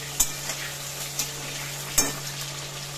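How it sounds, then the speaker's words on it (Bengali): Potatoes fry in a pan of spiced oil, a steady sizzling hiss with a low hum underneath, punctuated by several crisp clicks and scrapes as they are stirred. "এবার এখানে আলুটা ভাজা হতে থাকছে।"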